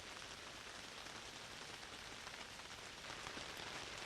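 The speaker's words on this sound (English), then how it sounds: "every sound the rain begins to make" Steady rain patters and drums on a tent, a dense, even wash of drops that stays constant throughout with no voices.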